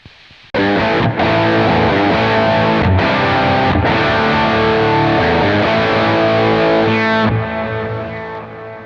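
Electric guitar through a JET Pedals Lamb Overdrive with clipping diodes: thick, sustained distorted chords ring out loudly, changing a few times without any talking.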